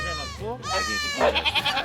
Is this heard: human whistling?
no